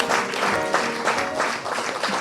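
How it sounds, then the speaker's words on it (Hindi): An audience claps steadily in a hall at an Independence Day patriotic poetry event, welcoming Naval Captain Sanjay Kumar. The applause is dense and sustained throughout, with some voices faintly mixed in. "एक बार जोरदार तालियां बजाइए और स्वागत करिए।"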